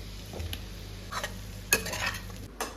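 Potatoes are stirred into sizzling spice masala in a pan, with a quiet hiss of frying under scattered scraping and clinking strokes of a utensil against the pan, close and fairly faint.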